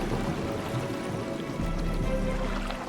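A river stream on the verge of freezing over flows with a steady, full rushing wash, dense and continuous from start to finish with no voices.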